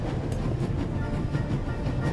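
A train rolling along rails in The Raven, a steady low rumble of wheels and wagons running continuously and fairly close, with no talk over it.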